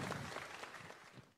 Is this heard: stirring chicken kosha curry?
no